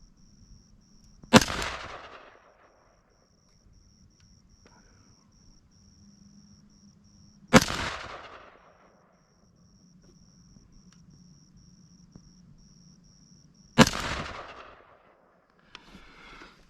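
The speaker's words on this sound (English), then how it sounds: "I'm going to shoot at the center target." Three loud rifle shots fired at a target while sighting in a scope, each a sharp crack with a ringing tail, evenly spaced about six seconds apart, with a steady insect hum in the background.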